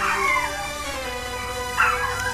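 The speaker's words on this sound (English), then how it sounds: "Enjoy the sound of my dog barking." A dog barks and yelps twice, a short burst at the start and another near the end, fairly close, over a steady low background hum.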